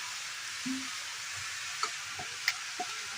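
Chopped pea shoot greens stirred in a frying pan, a quiet steady sizzle with a few soft scrapes and light clicks of the utensil against the pan.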